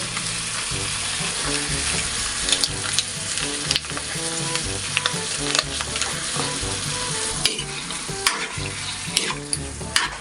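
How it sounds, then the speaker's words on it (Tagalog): Chicken tinola with oyster sauce sizzles loudly in the pan as tomato sauce goes in. Steady frying crackle is broken by recurring clinks and scrapes of stirring, with no talk. "Maglalagay din tayo ng tomato sauce."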